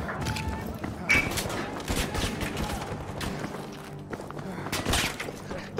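Gunfire in a first-person shooter video game, including bursts from a light machine gun, with repeated rapid shots and thumps and sporadic heavier bangs throughout.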